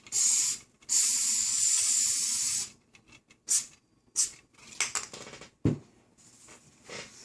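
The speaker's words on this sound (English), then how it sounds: "Spray your 3M spray adhesive" Bursts of pressurized 3M spray adhesive hiss from an aerosol can while installing a leather armrest cover, two long sprays followed by several shorter puffs, close and loud with no talking.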